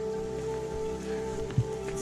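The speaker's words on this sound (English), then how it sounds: "It's still raining." Rain falls steadily on a hillside trail during a hike on Box Hill in Surrey, a soft continuous patter with a steady hum beneath and one brief thump near the end.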